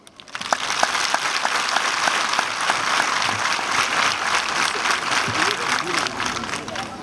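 A large crowd claps steadily and densely for about seven seconds at a children's Christmas Mass in Ruhengeri diocese, honoring the bishop; the applause starts abruptly and stays loud and even throughout.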